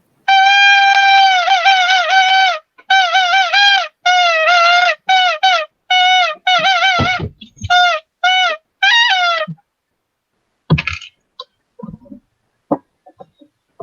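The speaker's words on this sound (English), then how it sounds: "No, it's just a dog squeaky toy." Dog squeaky toy squeezed in a rapid series of loud, high-pitched, wavering squeaks during the first nine seconds, then a few scattered faint squeaks and clicks toward the end.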